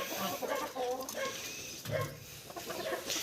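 Hens cluck and murmur close by in short bursts, with a voice speaking among them.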